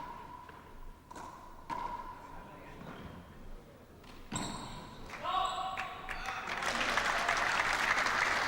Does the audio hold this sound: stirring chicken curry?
no